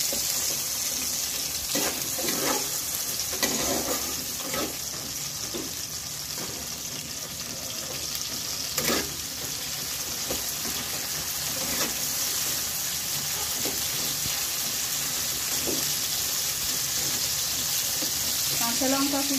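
Dried red chillies frying in hot oil, a steady broad sizzle running throughout with occasional crackles and spatters, alongside some kitchen clatter and faint background voices.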